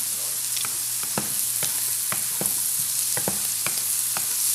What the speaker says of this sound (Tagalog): saka sibuyas, bawang. Igisa rin yung sa butter.